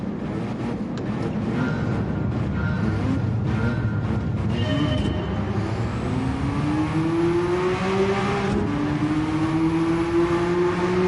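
Race car engine in Gran Turismo 7, screaming loud and steady at high revs, bouncing off the rev limiter before pitch climbs again through gear changes, continuous over the whole stretch.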